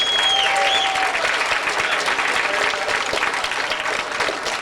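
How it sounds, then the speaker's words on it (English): A warm, dense round of applause from a crowd honouring a couple's first wedding anniversary at a live music evening, loud and sustained with a few voices calling out over it. "Let's give them a nice round of applause."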